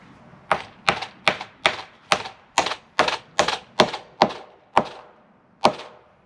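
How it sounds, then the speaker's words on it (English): Hammer strikes driving nails into wooden rafters, about a dozen sharp, ringing blows in a steady rhythm with short pauses, close and loud with no talking. "And then you start nailing."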